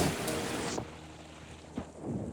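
Rain falling during the Texas floods, a steady hiss of drops with a few sharper thumps near the start and end, close and moderately loud, no voices.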